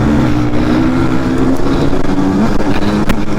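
An enduro motorbike accelerates past on a track day out, a loud, steady engine roar filling the whole stretch with a rising rev near the end.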